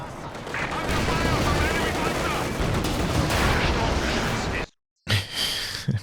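Dense rolling barrage of Katyusha rocket artillery in a strategy video game, loud and continuous for several seconds before cutting out abruptly, then resuming briefly with a commentator's voice faintly over it.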